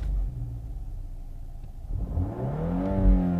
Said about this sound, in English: it will rev all the way to the rev limiter when you're in park or neutral